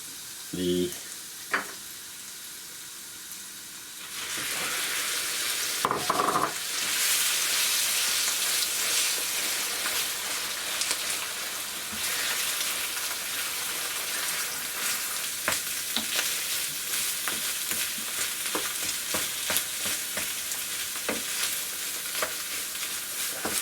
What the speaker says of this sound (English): need to keep it frying for a few minutes until all the spices are absorbed